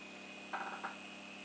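An original OZAS motor runs at 15% feed, driven by a test control board, giving a faint, steady electrical whine with a brief louder mechanical burst midway.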